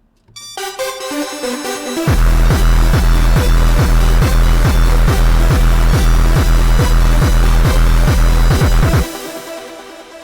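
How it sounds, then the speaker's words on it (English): A gritty synth passage builds, then a loud electronic drop hits with pounding kick drums and heavily distorted synths pulsing in a fast, steady rhythm. "the drop sounds like this"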